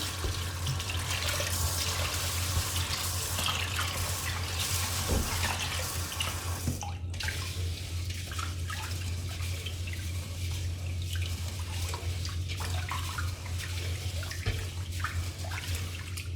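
Tap water runs steadily into a sink as rice is rinsed, a continuous close splash that stays fairly even with small drips and shifts, no voices.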